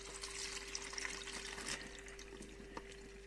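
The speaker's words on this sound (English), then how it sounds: "Let's see if I can pour this without making a mess like I usually do." Brandy-like liquid with cherries and cinnamon poured from a container, a faint soft trickle and splash over a steady low electrical hum, with no talking.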